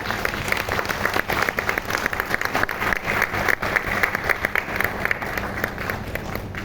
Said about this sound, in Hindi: एक बार जल्दी से एक जोरदार तालियां इनके लिए, जोरदार।